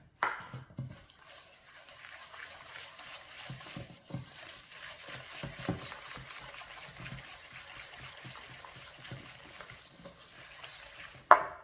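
Brownie batter being stirred by hand after a cup of sugar goes in, a steady soft scraping and swishing of spoon through thick mix in a bowl, close and fairly quiet, with a sharper clink near the end.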